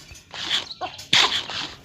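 A dog in a video game boss fight lets out a few short, rough barks and yelps over about two seconds, close and fairly loud, with a sharper burst midway.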